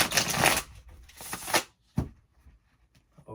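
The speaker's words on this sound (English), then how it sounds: "I will shuffle one more time and split the deck" Tarot cards riffle in two quick flurries close up, followed by a few soft taps and clicks as the deck is squared.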